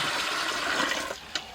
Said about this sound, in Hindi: फिर पानी इसमें डालेंगे।